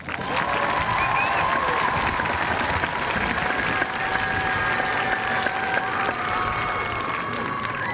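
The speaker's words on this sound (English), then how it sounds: "Please give these students a round of applause" A crowd at the Fort Walton Beach High School 2025 graduation applauds straight-A students, sustained loud clapping mixed with cheers and scattered whoops filling a large space.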